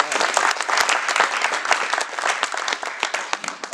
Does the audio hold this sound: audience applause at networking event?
yes